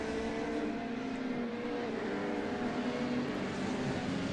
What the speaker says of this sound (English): Insane Annie's already looking a little bit squirrely with some of his passes today, and that's a corner cut on the chicane.